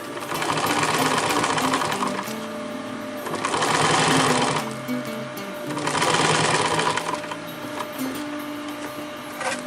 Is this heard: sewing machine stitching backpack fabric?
yes